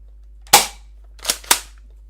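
A spring airsoft shotgun fires three sharp, airy pops up close, one single shot and then a quick pair about a quarter second apart, with silence between them.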